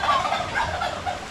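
A turkey gobbles loudly and close by in a rapid warbling burst outdoors on a farm.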